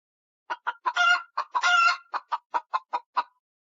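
Chicken clucks and a rooster's crow come as a quick run of short, close, fairly loud bursts with two longer drawn-out calls in the middle, no talking.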